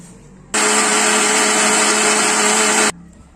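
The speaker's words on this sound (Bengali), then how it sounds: "মিক্সচার করে নিলাম" A mixer grinder blends chopped onion, chilli powder and green chillies in one loud, steady whirring burst lasting about two and a half seconds, then cuts off abruptly.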